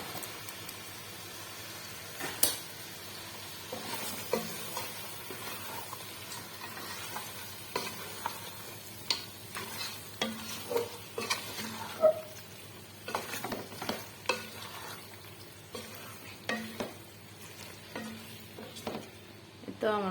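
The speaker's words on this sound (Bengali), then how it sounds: "এই তো অবশেষে আমি মাংসগুলো এখন ঢেলে দেবো" Chicken pieces sizzle and fry in a pan, a low steady hiss punctuated by irregular scraping and clattering stirring strokes, close and quiet throughout with no speech.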